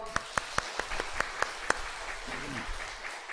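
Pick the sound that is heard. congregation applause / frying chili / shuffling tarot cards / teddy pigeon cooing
congregation applause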